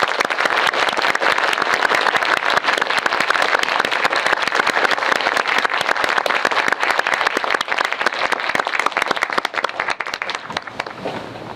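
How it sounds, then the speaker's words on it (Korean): Sustained, loud applause from an audience at a Korean film screening Q&A, greeting the author of the book behind the film as he comes onstage; dense clapping fills the whole stretch and eases slightly near the end. "네, 큰 박수로 맞이해주세요."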